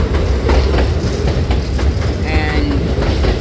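A New York subway train on the D and F lines near Bay 50 St rumbles along loudly, with rhythmic wheel clatter and a brief high squeal partway through.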